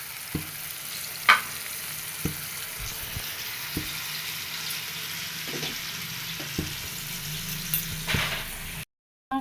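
Drumstick and lentil dumpling curry cooks in a pan with a soft continuous bubbling sizzle, punctuated by occasional clinks and light stirring knocks, ending in a brief cut to silence.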